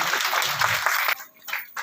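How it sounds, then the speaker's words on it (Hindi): An audience applauds at a school annual function, a dense burst of many hands clapping that drops off abruptly after about a second, leaving quieter scattered sounds. "जोरदार तालियां बजाएं।"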